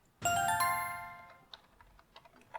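A few light computer keyboard key clicks typing a Ctrl Shift P shortcut, faint and spaced apart, following a loud ringing chime that decays at the start.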